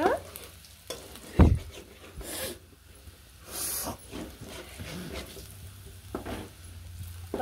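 Tomato chutney fries in oil in a pan, a spoon scraping and stirring with a few sharp knocks against the metal over a steady low sizzle, close and moderately loud.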